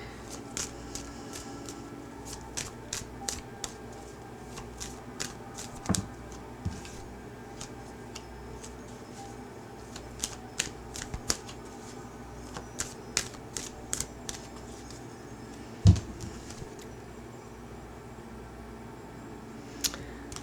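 Tarot cards shuffled by hand in quiet surroundings, a soft continuous riffling with many small crisp clicks and flicks spread across the whole stretch, one louder knock near the end.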